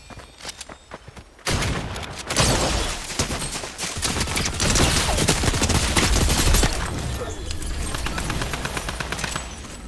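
Sustained bursts of gunfire ring out in Fortnite, some distant and some closer, rattling in rapid overlapping volleys with scattered single shots across a busy battle soundscape, no talk over it.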